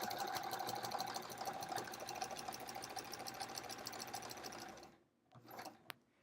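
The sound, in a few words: sewing machine stitching a quilt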